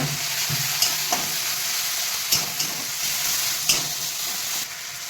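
Tomatoes and onions frying in a pan with spices for a Bengali fish curry, a steady close sizzle with a few sharp clinks of a utensil stirring against the pan, no voices.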